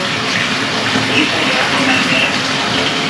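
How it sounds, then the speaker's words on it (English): A household shower runs in a steady, loud, even hiss of falling water that fills the whole clip without a break. "I turned the shower on. Okay, push down on it. I pulled down and it turned the shower on. Now the shower's on."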